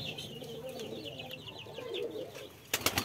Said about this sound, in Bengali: এটা হলো একটা গিরিবাজ কবুতর।